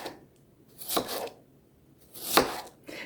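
A knife slices through potatoes into quarter-inch slices, two crisp cutting strokes against a board separated by quiet pauses, close and clear.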